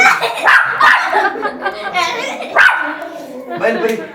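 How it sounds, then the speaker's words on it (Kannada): Several sharp, high-pitched puppy barks and yips up close, coming in quick bursts with short gaps between them. "ಒಂದು ನಾಯಿ ಮರಿ"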